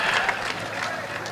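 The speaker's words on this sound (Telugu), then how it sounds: "ఈయన పేరు గట్టిగా చప్పట్లు కొట్టండి." Fairly quiet, steady clapping from an audience at an Osmania University folk song performance, a continuous patter that mixes with faint voices.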